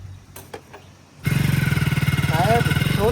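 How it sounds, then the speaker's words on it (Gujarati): A motorcycle engine revs up and runs steadily close by, a loud pulsing drone after a short quieter stretch, with a voice speaking briefly over it. "બેજા, બાઈક પાછળ બેસ."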